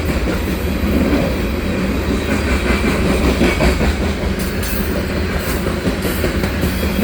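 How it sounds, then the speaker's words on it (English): A freight train with hopper cars rolls past on the rails, loud and close, with continuous rumbling and clickety-clack from the wheels and some faint squealing toward the end. "And that's the end of the train right there."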